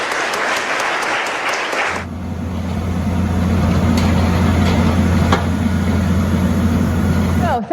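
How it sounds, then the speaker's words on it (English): Audience applause for the Stone Church in Gilbertville breaks off abruptly after two seconds, giving way to a steady low rumbling drone like an idling engine with faint clicks, while a voice talks over it. "Let's have a big round of applause for the Stone Church."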